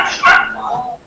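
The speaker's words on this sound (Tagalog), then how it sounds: "Maingay din po yung aso." A dog barks once, loud and close, with a person talking around it over a phone-line sound.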